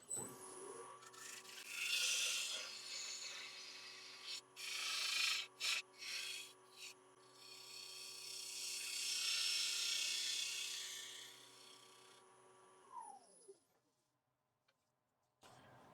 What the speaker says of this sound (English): So I can start to shape the underside of the bowl now.